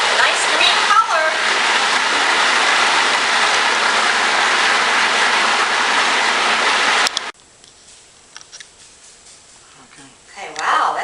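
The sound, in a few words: food processor blending cooled apples with green food coloring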